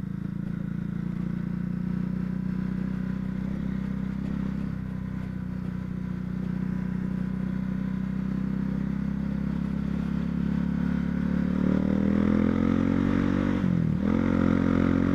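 A 2019 Honda CB Twister motorcycle rides along a dirt road, its mid-pitched engine droning steadily and close, swelling louder near the end as it revs up and then briefly dips.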